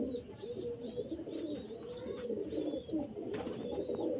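Pigeons coo in a steady run of soft, low, rolling calls with brief higher chirps, the birds fairly close; they are Kaldoma pigeons kept for sale.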